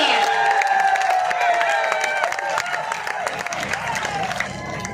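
An audience at a Hindi comedy poetry gathering claps and cheers after a punchline, a crowded burst of applause with whoops layered over a lingering voice and ringing tones, thinning slightly toward the end.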